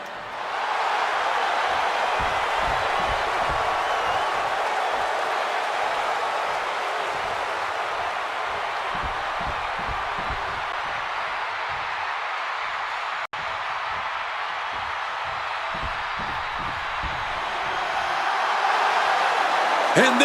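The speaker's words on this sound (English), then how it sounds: "this capacity crowd just exploded" A capacity arena crowd in the wrestling video game WWE 2K26 roars, cheers and applauds in a broad, sustained wall of noise that stays loud from start to finish and swells slightly near the end.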